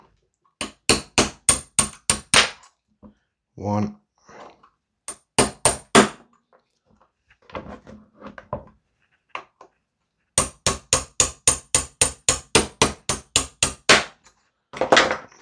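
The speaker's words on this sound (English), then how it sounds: "And we'll tap this out. So need a pin punch and a hammer." A hammer tapping a pin punch to drive pins out of an airsoft AKM gas blowback rifle, in quick bursts of sharp metallic taps with short pauses between, close and loud. A brief spoken word sits among the taps.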